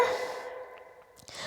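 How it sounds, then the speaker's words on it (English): Audible breath during Ashtanga yoga practice, a long sighing exhale that fades, followed by quieter, softer breaths close to the listener with no talking. "Breathing with sound."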